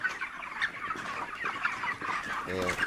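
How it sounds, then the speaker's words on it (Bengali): Broiler chickens about 37 days old cluck and murmur throughout a crowded poultry farm house, a steady close chorus of fowl with a louder burst of calls near the end. "এই যে দেখেন আমার মুরগি, আজকে 37 দিন।"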